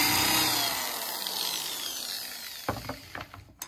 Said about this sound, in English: So I'm gonna drill one more in here.